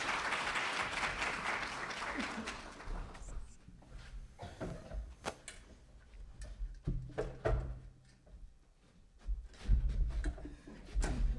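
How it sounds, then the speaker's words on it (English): Crowd applause at a school winter evening performance, dense clapping loud at first and then thinning into scattered claps and noises. "The crowd goes wild."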